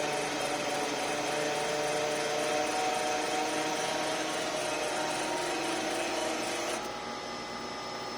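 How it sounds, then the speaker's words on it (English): Injection molding machine running as its screw turns and pushes material out of the nozzle, a dense, steady mechanical whir with a faint ticking pulse, easing slightly near the end. "the material is extruding out of the nozzle"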